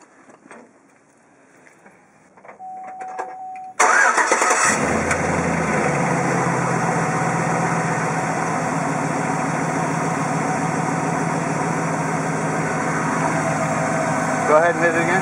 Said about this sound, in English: You got to start it up and hit the brakes a few times.